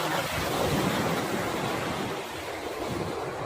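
Sea waves roar steadily on the shore, a loud broadband wash with wind buffeting the microphone.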